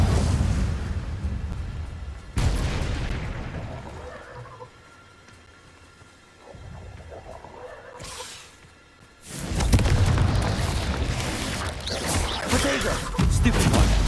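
Explosive spell blasts of Bombarda and Confringo in the video game Hogwarts Legacy, loud crashing bursts at the start and again near the end with a quieter stretch between, with some speech.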